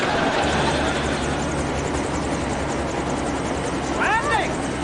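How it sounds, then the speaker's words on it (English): A helicopter's steady rotor drone fills the scene continuously, loud and close, with a brief rising whine near the end. "It sounds like a helicopter or something."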